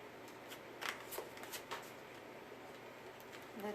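Tarot cards being dealt out by hand during a reading, giving a run of crisp shuffling, flicking and slapping sounds at close range, with a final slap near the end.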